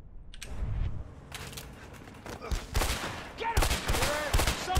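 Video game gunfire from A Way Out: rapid, loud bursts of shots that build into denser volleys toward the end, with faint talk underneath.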